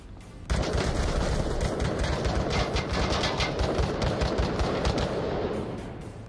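Rapid automatic gunfire bursts in a virtual reality video game start abruptly and continue steadily, loud and dense, fading slightly at the end.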